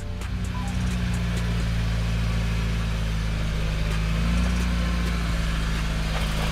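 An off-road SUV on beefy mud-terrain tires climbs a slope in low range. Its engine drones loudly and steadily without a break, and the note rises slightly partway through.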